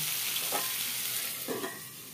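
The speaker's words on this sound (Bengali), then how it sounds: "এবার আমি এটাকে আবার নাড়িয়ে চাড়িয়ে এটাকে আমি আবার ঢাকা দিয়ে দেবো।" Soft continuous sizzling of spiced brinjal (eggplant) frying in a pan over medium heat, with two gentle scraping strokes of stirring.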